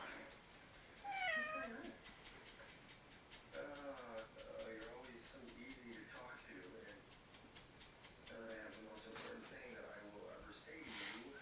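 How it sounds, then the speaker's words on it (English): Cat meowing repeatedly nearby, a series of drawn-out meows and chirps at a moderate level, with someone speaking at times between and over them. "I have a cat in here too."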